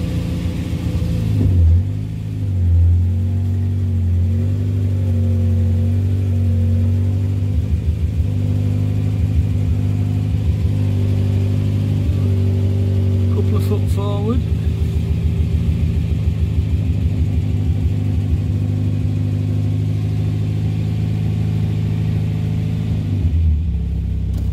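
An old Austin/Morris Moggy van, started for the first time this year, idles with a loud, steady, slightly uneven low rumble that climbs briefly as it revs, running on alone throughout.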